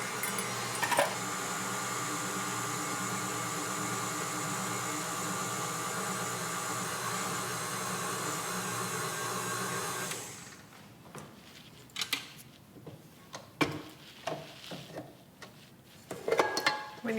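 An electric stand mixer whirs steadily as it works flour into creamed cookie dough, a loud continuous hum for about ten seconds before it stops, leaving quieter handling clatter and knocks.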